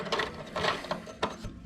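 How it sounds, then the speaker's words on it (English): A 13 millimeter wrench ratchets in several short clicking bursts while unbolting the fuel filter on a 1988 Dodge Daytona Shelby Z, close and fairly quiet. "we got the fuel filter off with a 13 millimeter wrench"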